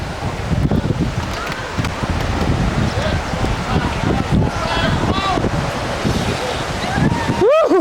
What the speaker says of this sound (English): That's a fucking water spout.